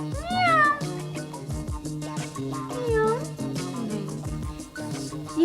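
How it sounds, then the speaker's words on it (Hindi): A cat meows in a drama episode, with several rising and falling mews near the start and middle, set against background music. "म्याऊं म्याऊं की आवाजें आ जरूर रही थी"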